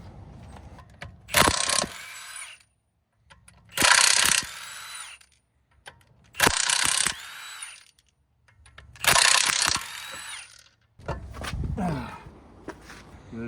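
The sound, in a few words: ratcheting off a cover on a Lamborghini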